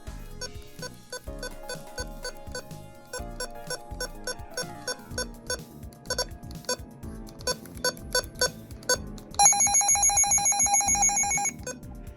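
A series of short electronic button beeps from a Midland HH54 radio, tapped in quick rhythm, ending in a brighter sustained multi-tone chime; clear and close, with no talking.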